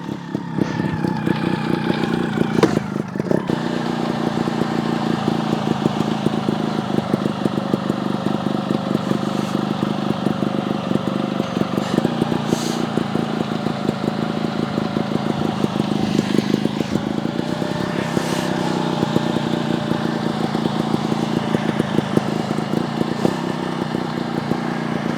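Steady, close idle-to-low-rev thrum of a GasGas TXT 300 trials motorcycle in a backyard obstacle course, a continuous buzzing engine with small throttle blips and slight pitch shifts.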